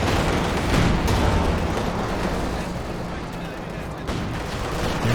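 Machine-gun and cannon fire from a Company of Heroes 2 battle form a dense, rumbling barrage of overlapping shots and blasts that runs continuously at a moderate level, with a voice commentating over it.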